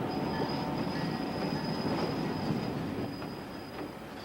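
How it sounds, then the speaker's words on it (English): A Chicago and Northwestern Railroad train rolls across the Missouri River, a continuous heavy rumble of wheels on rails with a thin, steady wheel squeal riding over it. "the train crosses the Missouri River"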